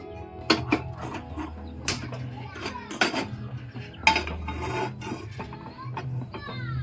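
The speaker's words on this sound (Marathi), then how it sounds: "आता आपण पहिले पहिले तवा ठेवूया आपल्या गॅसवर" A tawa pan is set on a gas stove in a home kitchen, making a few sharp metallic clanks and scrapes at uneven intervals against quiet background sounds.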